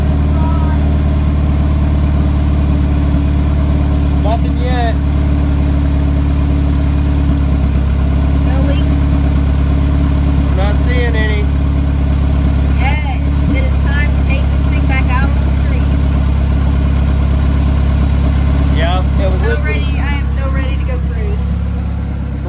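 A boosted Honda Del Sol engine idles steadily with a deep, constant low rumble throughout, while people talk over it intermittently.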